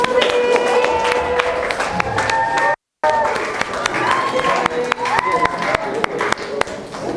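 A crowd claps and cheers loudly for several seconds, with a brief cut to silence in the middle before the applause resumes, voices mixed in.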